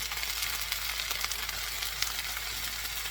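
Beef sizzles steadily in a hot pan after wine is poured in, a dense, even hiss of frying held close up with no voices.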